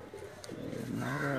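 A male Lakha pigeon, held in a hand, lets out one short low throaty coo at the end of a brief, quiet stretch of background noise.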